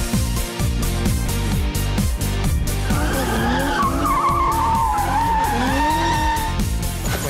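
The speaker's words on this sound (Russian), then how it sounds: "Мы ехали вот на этом автомобиле, это Mercedes AMG формата GT3" A Mercedes-AMG GT3 race car drifts at a Russian Drift Series event, its engine revving hard with rapid gear-like pulses before long, wavering tire squeals and skidding rise over the loud roar.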